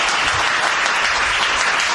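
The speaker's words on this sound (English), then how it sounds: "take a round of applause to my musicians, Bruce Alford on keys, and David on guitar." An audience applauds musicians at a live show: dense, steady clapping from many hands, loud and close, with faint voices mixed in throughout.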